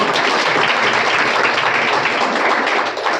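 A church congregation at a Friday prayer service claps loudly and steadily, a dense wash of many hands that carries on without a break and dips slightly at the end.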